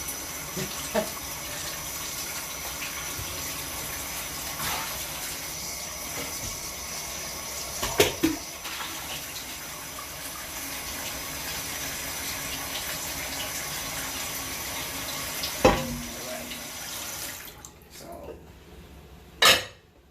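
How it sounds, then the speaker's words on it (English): A bowl is washed out under a running kitchen tap while cooking cabbage, water rushing steadily with a few clinks and knocks of dishware before the flow cuts off near the end. "I'm just going to wash out the bowl I just used."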